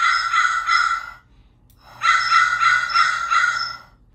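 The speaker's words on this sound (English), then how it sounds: "So that's our bird." Bird calls playing as spatial audio in a Reality Composer Pro island diorama: two bursts of harsh, crow-like cawing separated by a short silence, clear and close.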